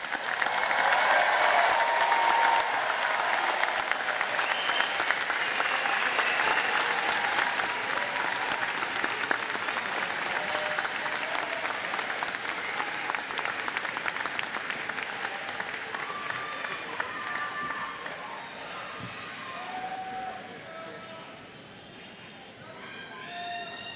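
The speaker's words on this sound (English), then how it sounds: "how about a real round of applause for these graduates?" Crowd applauding master's graduates at a Drexel University commencement ceremony, sustained loud clapping in a large hall that gradually thins and fades toward the end, with a voice talking over it.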